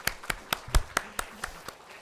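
A church congregation at a Sunday morning worship service gives a sparse round of clapping, about nine separate sharp claps in a loose, uneven rhythm, fairly faint and close.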